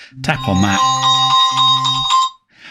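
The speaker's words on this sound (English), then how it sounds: "Your phone makes a loud noise" A smartwatch's find-phone function makes the phone play a loud electronic ringtone, a repeating tonal pattern close by, cutting off abruptly, preceded by a brief tap.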